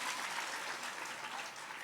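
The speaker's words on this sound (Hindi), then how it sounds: "शाबाश, ताली बजाई बच्चों के लिए" Applause for children at a religious discourse gathering in Matihani, Nepal: a crowd claps steadily and briskly, a dense even patter that holds loud throughout without pause.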